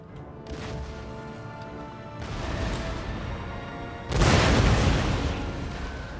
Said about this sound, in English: Get my fourth broadside's in.